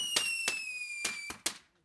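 Fireworks go off in the distance, five sharp bangs spaced unevenly over about two seconds, with a faint tone running steadily underneath.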